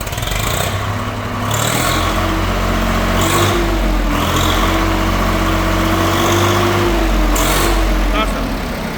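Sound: Swaraj 855 tractor engine starting and idling

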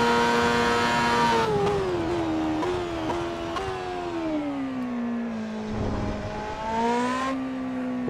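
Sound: Ferrari SF15-T F1 car engine in video game Assetto Corsa

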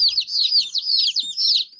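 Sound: newly arrived chicks peeping

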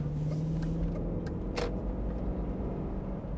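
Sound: Range Rover V8 engine running

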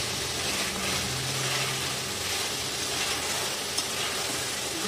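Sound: spice masala frying in oil for fish curry

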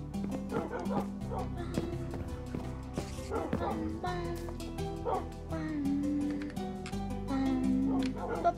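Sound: dogs barking in a video game

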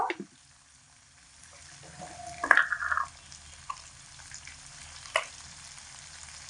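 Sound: eggs frying in a pan over medium heat

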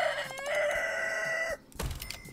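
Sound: rooster crowing in video game Honey, I Joined a Cult

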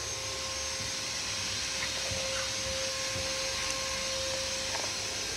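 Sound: Ford Escape blower motor running

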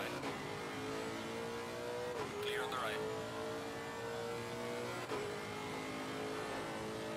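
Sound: race car engine in Assetto Corsa Competizione video game at Suzuka

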